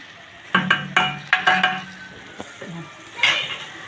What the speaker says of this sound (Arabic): ساعة ما احط الشطه في الزيت عشان ما يتحرقش مني